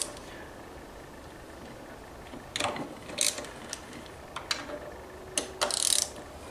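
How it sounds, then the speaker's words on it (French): Ratchet fitted with a 5 mm Allen bit loosening two ignition stator screws on a Nitro or Aerox scooter, giving a few short clicking bursts close by over a quiet background. "démonter les deux vis qui se trouvent ici à l'aide d'une clé Allen de 5 ou comme nous d'un cliquet équipé d'une clé Allen de 5"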